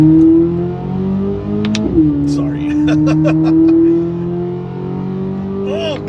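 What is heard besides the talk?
sports car engine revving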